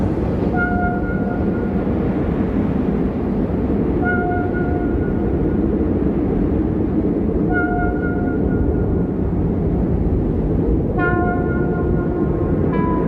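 A train in a railway simulator game idles at jammed points, giving a steady heavy engine rumble throughout, with four short two-tone horn blasts spread across it, the last longer and layered.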